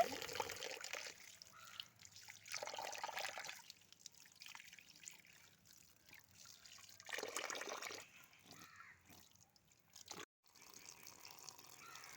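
Pieces of rohu fish are rinsed by hand in water for an Odisha fish curry, with faint splashing, trickling and sloshing in irregular bursts close by and no speech.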